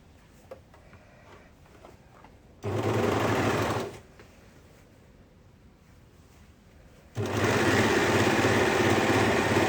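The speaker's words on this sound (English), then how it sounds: "I'm going to sew this side." A sewing machine runs a dress seam in two loud, steady bursts of rapid stitching, the first short and the second longer, separated by a quiet pause.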